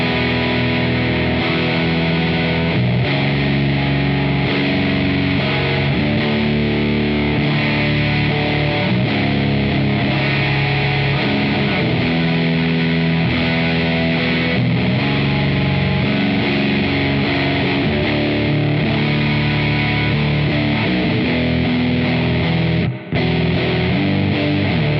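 A Danelectro 56 baritone guitar with bottle headstock played through Soundbox Workshop distortion, thick driven chords and riffs ringing continuously and loudly for the whole stretch, with one brief cutout near the end.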